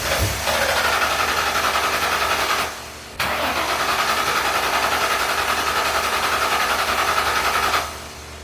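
A Ford Mustang GT with engine trouble and recently refitted spark plug wires cranks loudly and steadily. There are two long cranking runs with a brief pause between them, and the whirring never catches into an idle.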